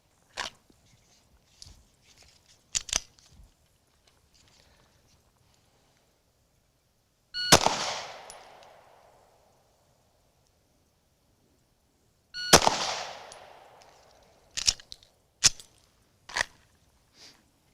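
Live pistol rounds fired in a trigger press drill: two loud, sharp cracks several seconds apart, each trailing off in a decaying echo, with quieter clicks and taps between and after.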